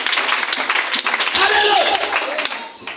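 A church congregation applauds in a sustained burst of clapping mixed with cheering voices, loud and close, with a voice rising over it partway through.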